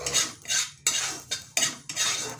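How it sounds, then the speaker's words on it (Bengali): Whole spices fried and stirred in a pan, heard as loud, close metallic scraping strokes of a utensil against the pan in four or five bursts, over a bright sizzling hiss, with no voices. "এখন মশলাগুলো ভেজে নেব"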